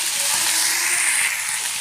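Peas and tomato hit a pan of frying onions already yellowed with turmeric, giving a steady, loud, close sizzle that fills the short stretch with no voices.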